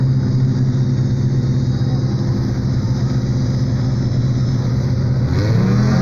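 Class 7 Libre short course off-road race cars at the start in San José del Cabo, engines droning and revving loud and close, rising in pitch near the end as they launch.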